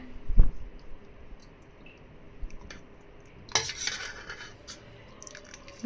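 Metal utensils clink and scrape against a plate as cooked amaranth greens are moved onto it, with a few soft stirring clicks and one brighter clatter, close and quiet.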